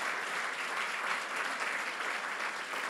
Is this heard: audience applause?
yes